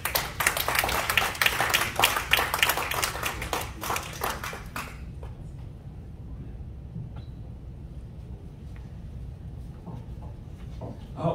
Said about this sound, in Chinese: 好，掌声欢迎。